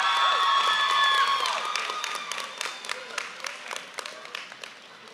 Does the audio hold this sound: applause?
yes